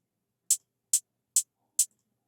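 Four evenly spaced, crisp percussive beats programmed in the FL Studio step sequencer, each a short bright hit followed by silence, keeping steady metronome-like time with nothing else playing.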